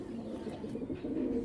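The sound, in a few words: pigeon cooing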